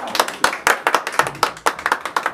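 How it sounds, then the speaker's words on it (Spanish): A small group clapping at a mariachi birthday serenade, a quick, loose burst of hand claps at close range, with no voices over it. "Muchas gracias. Un aplauso."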